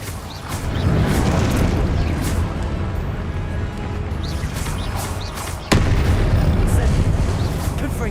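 Hogwarts Legacy combat with Incendio fire spells: a loud, continuous roar of flame and crackling blasts, broken by a sharp impact crack partway through, dense and close throughout.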